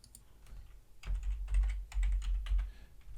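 Quick bursts of keystrokes on a computer keyboard, close and fairly quiet, tapping in irregular runs after a brief silence while working in PLC cloud software.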